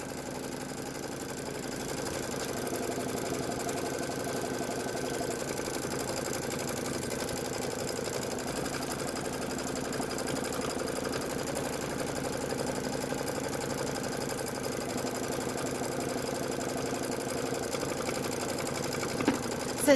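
An embroidery sewing machine stitches the tack-down on a candy corn quilt block, its close, even mechanical whir holding steady and unbroken throughout.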